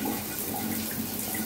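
An expandable plastic garden hose with its spray nozzle set to cone mode sends out a steady, even hiss of water, continuous and moderately quiet with no talk.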